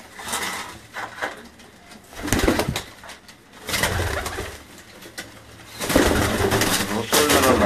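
Pigeons coo in repeated soft bursts, several calls spread through the moment at close range, with faint background noise and occasional rustling between them.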